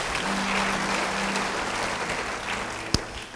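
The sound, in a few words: church congregation applause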